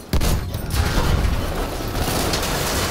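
A grenade blast against a tank in Battlefield 1: one sharp, loud explosion at the start that gives way to a dense, rumbling wash of battlefield noise and debris lasting several seconds, with no talk.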